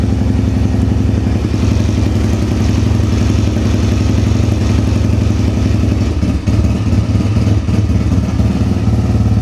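Dirt bike engine running on choke to warm up, a steady close, loud idle with a rapid mechanical putter and light clatter, holding a constant rhythm with a brief dip near the end.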